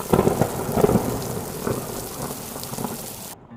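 Heavy rain pours down steadily while thunder rumbles loudly at the start in a Hindi cartoon, then the storm noise cuts off abruptly.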